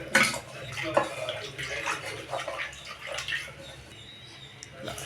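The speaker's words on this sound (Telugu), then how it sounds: "కొంచెం నీళ్ళు వేసుకోవాలండి" Water poured into a pot of sambar, a soft continuous splashing pour with a few clinks of the vessel, close but fairly quiet, under a speaking voice.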